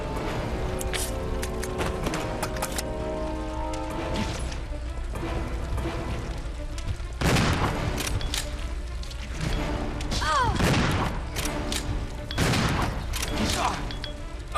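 Gunfire from the video game Resident Evil Zero HD rings out as scattered loud shots and crashing impacts over a constant game background, with someone talking throughout.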